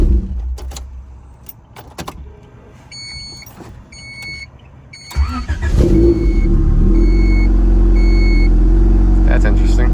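A Honda B-series VTEC engine fitted with a Digidizzy distributor kit cranks over after keys jangle and a door chime pings, then catches about halfway through and settles into a loud, steady, close-up idle.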